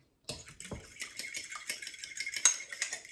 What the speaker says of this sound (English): and I'm going to whisk